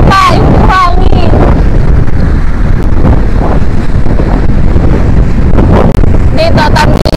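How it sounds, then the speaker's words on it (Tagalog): Strong typhoon wind buffets the microphone with a constant loud roar and rumble near the sea, broken by brief bits of voices. "ang lakas ng hangin."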